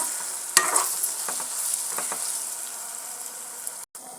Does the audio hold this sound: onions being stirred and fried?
yes